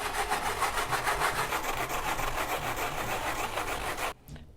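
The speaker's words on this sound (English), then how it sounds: "then we are going to zest a lemon because it's going to have a little lemon action in our" A lemon is zested on a zester in a kitchen, giving a fast, even run of scratchy rasping strokes close to the ear before stopping abruptly.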